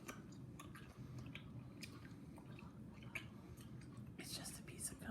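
A piece of gum being chewed close up, quiet wet squishing and smacking mouth sounds repeating irregularly over a low background hum, with soft breathy whispering mixed in.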